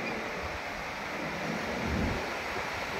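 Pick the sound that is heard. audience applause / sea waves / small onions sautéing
sea waves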